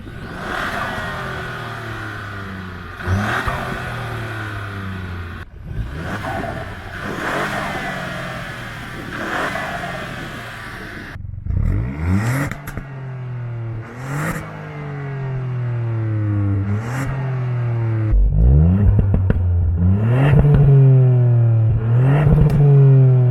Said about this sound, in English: There's also a difference in the exhaust note, which we're going to hear in a little bit.